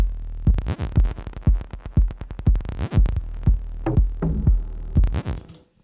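Digitakt-programmed deep ambient house loop: a steady, loud four-on-the-floor kick drum with strong low end pumps beneath a sustained ambient texture and scattered higher percussive hits, ending with a brief fade.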